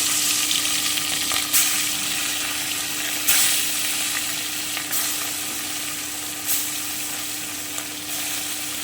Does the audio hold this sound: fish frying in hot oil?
yes